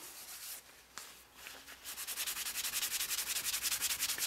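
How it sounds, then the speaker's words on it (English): Beeswax and coconut oil being rubbed into a wooden mortar by hand make a soft, steady rhythmic rubbing that speeds up into quick, even strokes, close and quiet. "a little friction warms up that wax, warms up that coconut oil, and I can get it just to melt into the surface"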